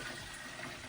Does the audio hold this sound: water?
yes